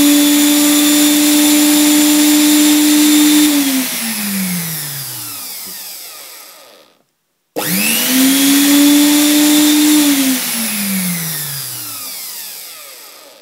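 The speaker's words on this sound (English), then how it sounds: "Okay, I'll turn this motor on now." A powerful salvaged electric motor whines up to high speed, holds a steady loud pitch, then winds down; it is switched on a second time and repeats the spin-up and coast-down, close and alone.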